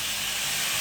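Water poured into a hot pan with sliced potato, giving a loud, steady hiss of steam and sizzle that fills the short moment, with no talking.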